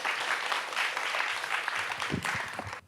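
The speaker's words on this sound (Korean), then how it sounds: "우리 박수로 맞아주시죠." An audience applauds at a lecture hall event, welcoming a speaker with steady, dense clapping that fades out toward the end, with a brief voice near the close.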